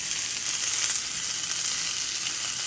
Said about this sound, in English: So when you're cooking spinach, this stuff wilts down pretty quickly.